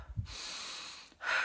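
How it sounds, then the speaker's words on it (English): A person takes sharp, fast breaths through the nose in a rapid breathing technique, a brief low puff followed by a long hissing inhale and another sharp breath, close and quiet. "So you breathe in, pretty sharp, fast breath."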